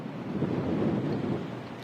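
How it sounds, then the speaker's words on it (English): Gusty wind buffets the microphone on a golf course during the final round of a women's professional championship, a steady low roar that swells slightly in the middle, close and continuous with no voices. "It's those gusts."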